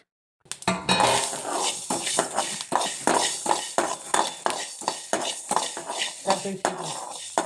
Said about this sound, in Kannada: ಮೆಂತ್ಯಕಾಳು ಎಲ್ಲಿ ತನಕ ಫ್ರೈ ಮಾಡಬೇಕಂದ್ರೆ ಅದು ಫುಲ್ ಬ್ರೌನಿಷ್ ಆಗೋ ತನಕ ನೀಟಾಗಿ ಮೆಂತ್ಯಕಾಳು ಫ್ರೈ ಮಾಡ್ಕೋಬೇಕು